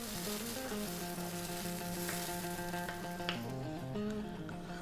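Tomato sauce simmers in a pan for a vegetable crumble, giving a continuous close sizzling hiss that runs steadily throughout over tuneful background music.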